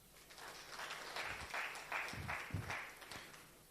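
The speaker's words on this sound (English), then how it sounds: "A round of applause, please." Audience at an event gives brief, moderate applause, a few seconds of scattered clapping with some louder individual claps standing out.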